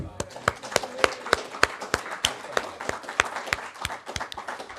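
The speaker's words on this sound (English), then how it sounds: "One more round of applause for Art." An audience at an evening talk about mountain summits gives a short round of applause, distinct sharp claps in a quick uneven patter from a modest crowd, fairly close.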